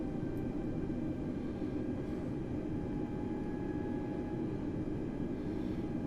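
An Airbus A320neo taxiing toward the runway gives off a steady, even engine rumble and hum, continuous and unchanging, heard from inside the cabin with no talking.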